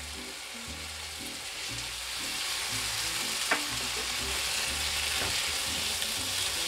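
Fresh garlic and vegetables sauté in a pan for a Cuban-style stew of root vegetables with salt cod, giving a steady, close sizzle and fry with occasional stirring scrapes.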